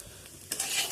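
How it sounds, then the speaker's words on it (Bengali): Rice and lentils being dry-fried together in a pot for khichuri, a quiet scraping stir that swells into a brighter, louder sizzle halfway through, close by. "ভালো করে চাল ডালগুলো আমি ভেজে নিই"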